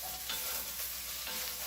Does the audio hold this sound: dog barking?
no